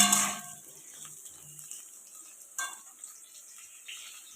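Potatoes fry in oil in a pan while making chana dal bora jhol, giving a soft, steady sizzle with a brief louder hiss at the start and light clinks of utensils, with no talk.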